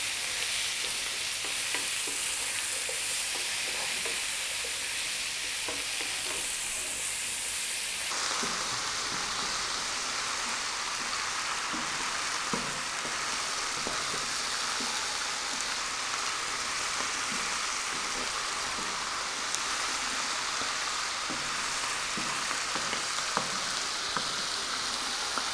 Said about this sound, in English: We're also going to add in now our cooked chickpeas, and we're going to go for another 4 minutes. Stirring pretty much all the time now.